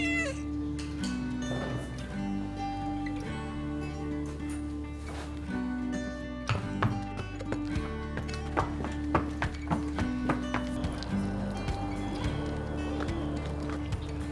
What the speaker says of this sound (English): we took a trip out to Cherryvale Farms to ride some horses ourselves